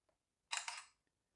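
Digital shutter sound from an NTS430 inspection camera taking a picture, one short crisp double click-burst, quiet and isolated.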